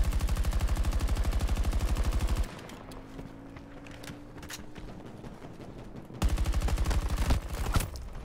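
Rapid automatic gunfire in the Battlefield 2042 video game, loud sustained bursts at the start and end with scattered single shots and distant blasts between them, no talking.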